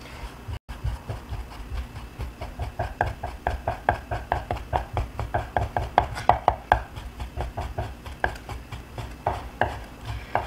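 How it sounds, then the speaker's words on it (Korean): A kitchen knife julienning thinly sliced pork into fine strips on a cutting board for Chinese shredded pork in sweet bean sauce, with rapid, steady chopping taps repeating close up for the whole stretch. "그리고 나서 이제 채 썰게요."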